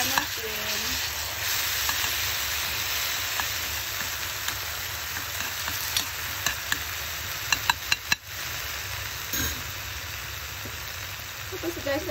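Fried fish pieces sautéing in leftover frying oil in a pan, a steady bright sizzle with occasional sharp clinks of a utensil against the pan.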